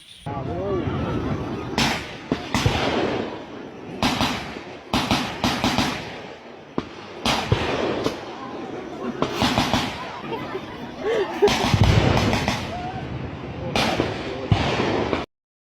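Sharp bangs and bursts of distant gunfire and explosions crack repeatedly and irregularly, with people chattering and talking in between.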